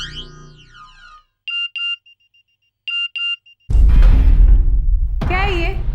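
A mobile phone rings from inside a student's bag in a classroom, sounding two short beeping bursts twice with a pause between, before a loud voice cuts in and keeps talking.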